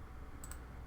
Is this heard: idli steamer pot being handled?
no